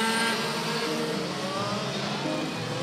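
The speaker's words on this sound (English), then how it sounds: "considering the sound, a broken or dislocated exhausts" A racing kart with a broken or dislocated exhaust runs at a CIK-FIA kart race at Laitse Rally Park, giving a loud, harsh, continuous buzzing engine roar that holds steady throughout, with no voices.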